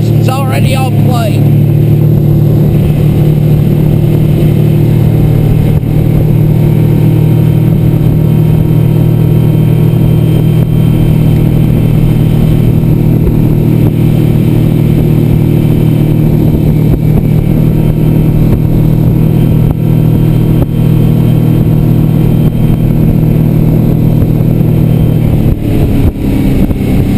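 A 2015 H22B boat with a 150 engine runs fast, producing a loud, steady, low engine drone with hull and water rush throughout and only slight changes in pitch.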